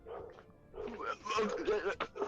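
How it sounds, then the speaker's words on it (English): A dog barks excitedly somewhere in a house at night, sharp yips and woofs mixed in under people talking and reacting nearby. "Is that my dog going ape shit?"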